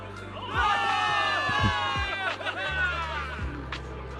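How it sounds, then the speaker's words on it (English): A large crowd in the video game Zenless Zone Zero cheers and whoops loudly, a sustained roar of shouting voices with a few higher yells rising above it. "Give it up for yourselves, soldiers! Cheer for victory!"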